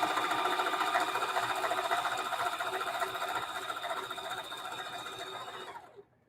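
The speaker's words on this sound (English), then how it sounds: "I sew a little bit every day." A sewing machine stitches a fat quarter quilt in a steady, fast mechanical whir with a humming motor, running continuously before slowing and stopping abruptly near the end.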